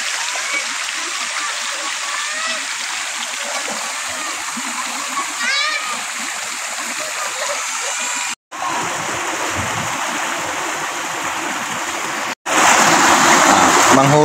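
River water flows and splashes steadily at Paligawan river in Carmona, Cavite, a broad wash of noise running the whole clip, with children's voices faintly mixed in and two brief dropouts before a louder, closer splashing burst.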